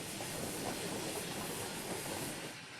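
A Hudswell Clarke 0-6-0 saddle tank steam locomotive runs on the Fawley Hill private garden railway, giving a steady hiss of steam with rolling wheel clatter that eases off near the end.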